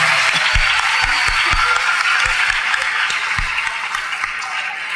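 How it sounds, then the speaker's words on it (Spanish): An audience gives sustained, steady applause at a school's best-students awards night at I.E. San Juan de los Andes, dense clapping filling the hall throughout with a few heavier thumps near the front. "Para ellas dos pedimos un fuerte y prolongado aplauso."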